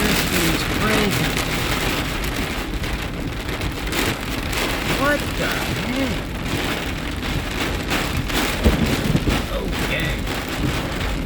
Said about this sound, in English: it hasn't rained this hard